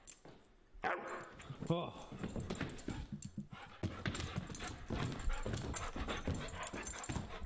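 A dog barks and pants close by, with repeated short barks and breathy panting mixed under people talking and other household noise.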